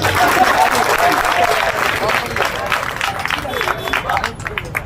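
An audience at a public gathering applauds with scattered, uneven clapping amid crowd murmur and some speech, the claps thinning out toward the end.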